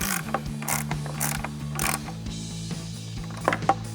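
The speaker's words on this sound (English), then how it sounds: "I'm going to grab an 8mm ratcheting wrench to tighten it the rest of the way down" An 8mm ratcheting wrench tightens a headlight bolt on a 2021-2024 Ford Bronco, clicking in quick, evenly spaced ratchet runs close up, with a few light knocks near the end.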